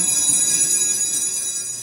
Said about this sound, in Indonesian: Pada saat imam berlutut, Miss Dinar membunyikan lonceng.